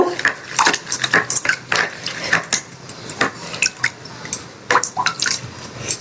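A tablespoon stirring lime paste in a small container, producing quick light clinks and wet scraping ticks in an irregular rhythm, close up and fairly soft.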